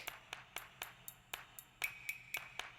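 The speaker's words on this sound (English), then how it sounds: "I heard this like little tinky tink" Crisp wooden clicks of claves tap in an even rhythm, joined partway by a thin, high tinkling tone.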